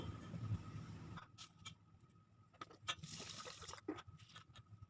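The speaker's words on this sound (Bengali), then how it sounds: "ডালটাকে আমি খুব ভালো করে ধুয়ে নিচ্ছি।" Soaked black gram lentils washed by hand in water, quiet and close, with gentle sloshing at first and then scattered splashes, drips and trickles.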